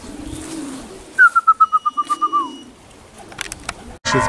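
Pigeons approaching their loft, heard as one clear run of about ten quick, evenly pulsed calls slowing slightly toward the end, close and distinct, followed by a short sharp knock.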